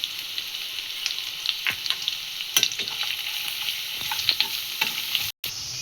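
Fish roe frying in a pan with chili powder, salt and spices, giving a steady close sizzle broken by occasional scraping stir strokes, with no voices.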